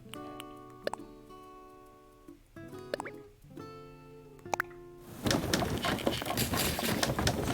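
Birds coo and chirp on an island in the Animal Crossing video game, bright tonal calls and drips with plopping accents, followed by a denser burst of ambient game sound.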